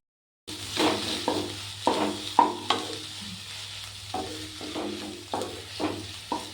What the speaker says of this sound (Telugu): పొడి పొడి అయ్యాక మనం వేగనివ్వాలి దీన్ని ఆయిల్లో